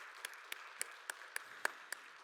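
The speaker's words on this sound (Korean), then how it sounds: "하나님께 영광의 박수 올려드리도록 하겠습니다." Congregation clapping during a young adults' Sunday church worship service, heard as a few sparse, separate claps at a moderate distance rather than a full sustained round of applause.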